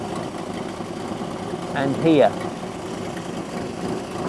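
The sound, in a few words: MG Midget classic car engine idling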